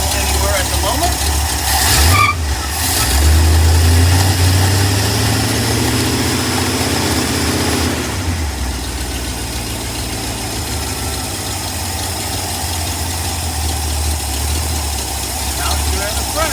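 A 1958 Ford F100 truck engine idles steadily after restarting, a low continuous rumble with a brief rise near the start, under occasional talk.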